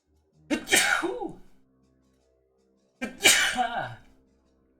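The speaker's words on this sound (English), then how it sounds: "The sneezes." Two loud, close sneezes from one person, each a sharp burst with a trailing fade, about two and a half seconds apart with silence between.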